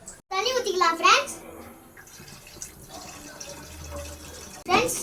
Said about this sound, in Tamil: தண்ணி ஊத்திக்கலாம் ஃப்ரெண்ட்ஸ்.